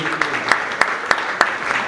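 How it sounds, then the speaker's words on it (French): Sustained applause from an audience at an award presentation, loud and close, with a few sharp, evenly spaced claps standing out above the steady clapping throughout. "Applaudissements nourris"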